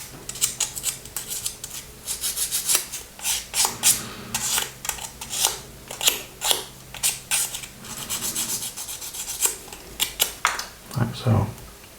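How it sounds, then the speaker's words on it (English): Sanding burrs off a small plastic cannon shell part for a 1/24 scale Airfix Spitfire MkIX model makes rapid, scratchy rasping strokes in uneven bursts, close and fairly crisp, with faint low background hum. "I need to sand the little burrs off."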